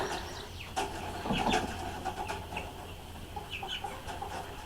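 Chickens cluck and murmur softly in short scattered bursts inside a coop over a low steady hum, fairly close and fairly quiet.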